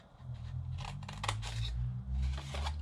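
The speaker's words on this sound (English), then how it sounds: "I'll bring in my scissors" Scissors snip through a folded greeting card while trimming the corners of a holiday gift box, giving several close, crisp cutting strokes over a steady low hum, with no talking.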